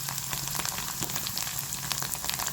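Hot oil spatters steadily around paneer frying in a pan, a continuous close crackle with scattered sharp pops and a low hum underneath.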